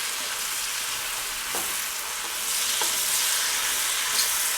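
Mushrooms and onions sauté in butter in a pan, giving a steady, fairly loud crackling sizzle with a few faint stirring scrapes and no voices.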